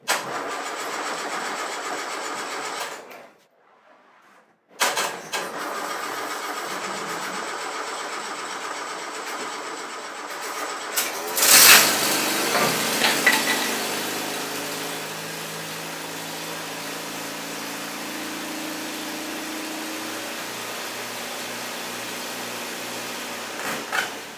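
A restored Land Rover engine cranks, catches after a brief silence and settles into a steady idle, with a loud burst on startup, running alone at close range.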